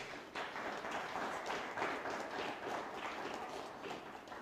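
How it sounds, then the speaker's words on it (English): Steady applause from a debate audience for presidential election candidates, a dense, even wash of clapping lasting throughout at moderate, fairly distant level. "A big round of applause for them."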